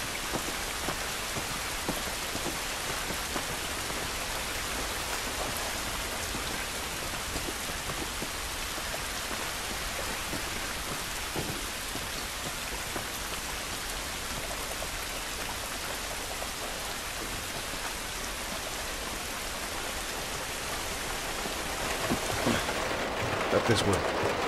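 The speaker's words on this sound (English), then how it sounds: "It's raining." Steady rain falls in The Last of Us Remastered video game, a dense, even hiss of drops spread over the whole stretch, with a slight swell at the very end.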